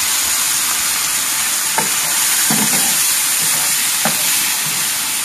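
Kofta meatballs fry in hot oil in a pan, a steady broadband sizzle running throughout with a few brief clinks and scrapes as they are turned; no talking.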